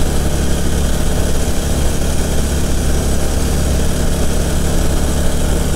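A Harley-Davidson Electra Glide motorcycle engine runs with a steady, unbroken low rumble, loud and close, holding an even tone throughout with no voices over it.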